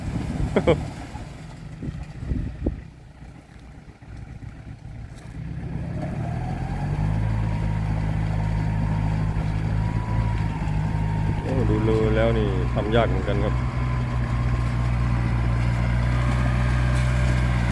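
A Yanmar tractor engine churns through a deep muddy paddy field, a loud steady low drone that builds and holds after a quieter start, with someone talking briefly over it.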